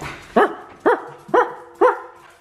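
A dog barks four times at an even pace, each bark close, sharp and clear against an otherwise quiet background.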